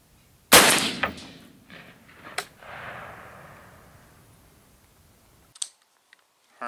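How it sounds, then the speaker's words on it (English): A single loud rifle shot fired while sighting in a scope cracks sharply at the start, followed by a long rolling echo that fades out over several seconds, with a couple of faint clicks afterward and no talking. "Take another shot."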